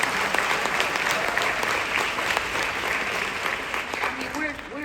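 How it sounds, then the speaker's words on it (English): A theater crowd at a WNBA documentary screening claps loudly, a close, full burst of many hands that stays strong for several seconds, with faint voices mixed in. "Y'all clap really loud for that, though."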